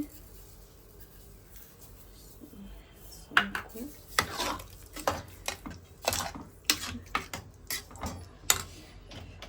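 Ghee and sugar being added to carrot halwa in a pan, heard as a run of close metallic spoon clinks and scrapes against the pan, quiet at first, then repeated at an uneven pace.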